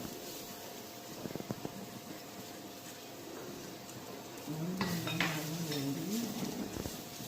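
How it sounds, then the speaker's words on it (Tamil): Dried red chillies fry in a pan while being stirred, with a quiet background sizzle, scattered spoon scrapes and clinks against metal, and a voice briefly audible near the end. "காய்ந்த மிளகாய் நன்றாக வதங்க வேண்டும்"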